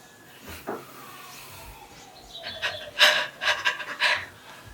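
A person demonstrates a deep breath taken after heavy crying: a few shaky, faint inhales and exhales build into louder, ragged panting gasps near the end, heard close and alone.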